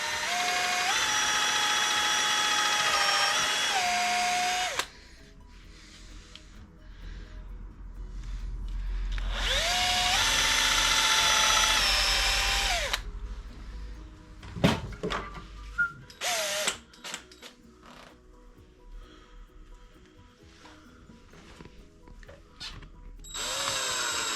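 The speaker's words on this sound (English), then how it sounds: "So now we're going to drill holes and screw the bottom hangy bits that are going to hold on to the drills." Power drill boring holes and driving screws into wood in a workshop while fitting French cleat holders, with long whining bursts of the motor, pauses between them, and short ratcheting spurts near the end.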